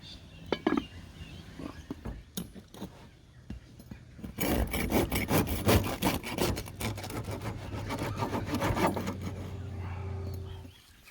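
A knife saws through a loaf of damper bread outdoors, producing rough rasping and crunching strokes that build into a sustained cutting noise, with a few knocks and clinks of the board or utensils at the start and a low background hum.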